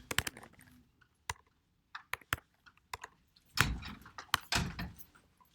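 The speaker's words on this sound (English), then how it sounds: "So we can type my name." Keys tapped on a computer keyboard in scattered bursts, crisp close clicks with pauses between, then a quicker run of heavier strokes, no voices.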